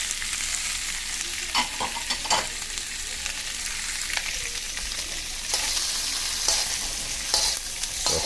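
Mushrooms fry in a pan for chop suey with imitation crab, giving a constant soft sizzle broken by occasional light clicks and scrapes of stirring.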